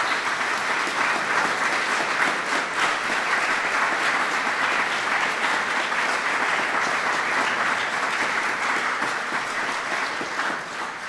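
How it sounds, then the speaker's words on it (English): Sustained, steady audience applause fills the room at a formal swearing-in ceremony for the U.S. Ambassador to Japan, dense and even throughout and easing slightly at the end. "Would you give them all a round of applause for their comments?"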